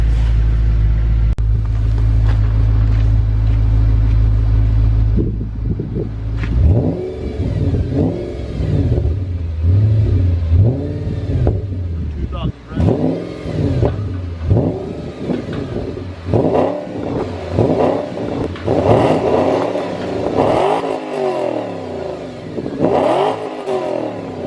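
Audi RS4 with the centre exhaust section deleted, idling with a deep drone then blipped through repeated loud, sharp revs that rise and fall, close up with no talking.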